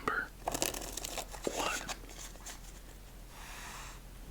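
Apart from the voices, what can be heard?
shuffling deck of playing cards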